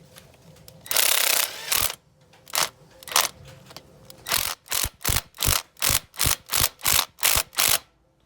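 A hand ratchet tightens an exhaust manifold stud on a Mercedes Vito CDI turbo diesel, first with a few scattered clicks, then a steady run of about ten close, loud ratcheting strokes.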